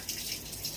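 Water runs from a household tap in a steady, soft gush with faint splashing, quiet and unbroken throughout.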